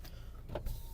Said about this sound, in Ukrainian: По електриці, склопідйомники. Правий працює